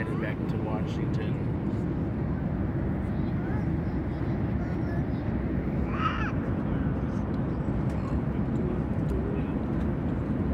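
An airplane in flight gives a steady, broad engine and cabin roar that fills the whole stretch evenly, with no voices rising above it.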